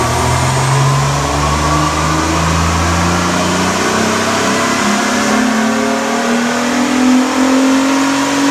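A Honda J35 V6 in a Pilot, running without its supercharger, revs hard on a chassis dyno, a loud steady engine drone rising gradually in pitch over several seconds with no talk.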